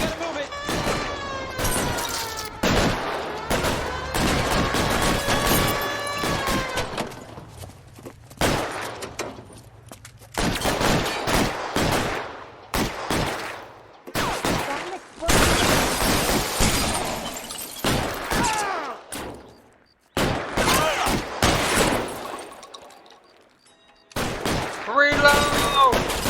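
A chaotic gunfight against police in the L.A. Noire video game, with bursts of rapid gunfire, shattering glass and impacts broken by short pauses, mixed with shouted voices.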